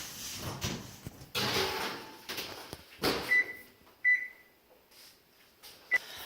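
An oven door closing as a quiche goes in to bake, a few close thumps and clunks followed by short electronic beeps from the oven, with quiet handling noise between.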